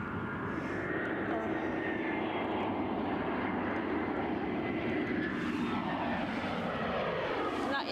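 A Lufthansa airliner moves at Edinburgh Airport, its jet engines giving a continuous broad rumble and roar at moderate distance, steady throughout with a slight swell near the end.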